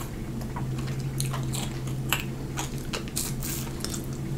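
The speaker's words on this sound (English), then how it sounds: "Wait till I get done chewing this." Close, wet chewing of food during a ketchup taste test, with repeated soft squishy bites and mouth sounds over a low background hum and no speech.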